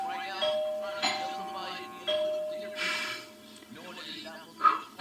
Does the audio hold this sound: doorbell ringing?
yes